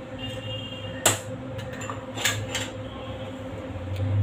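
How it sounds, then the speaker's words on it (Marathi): A metal pot is set down on the stove to heat for tempering dhokla, giving a sharp clank followed by a softer knock over a steady background hum. "लो ठेवला आहे, भांडं ठेवलं आहे मी गरम करण्यासाठी"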